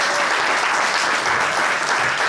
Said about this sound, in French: Une annonce et un tonnerre d'applaudissements.